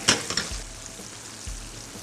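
Shrimp deep-frying in hot oil, a soft bubbling sizzle with a few sharp clinks at the start and two low thumps later, fairly quiet and without speech.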